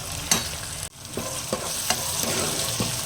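Onions and tomatoes sautéing in a pan give off a steady close sizzle, with a few sharp stirring scrapes and clicks landing at irregular moments and a brief drop in the noise near the start.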